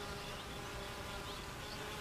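Honeybees buzzing in a steady, dense drone around a hive, a continuous close hum that never lets up.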